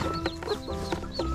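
Backyard chickens cluck in short, soft bursts at feeding time, several quiet calls spaced about a quarter second apart.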